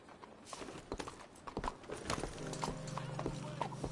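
Horse hooves clip-clop at a steady walking rhythm in Red Dead Redemption 2, moderately close and mixed with game sounds, with a voice speaking briefly over them.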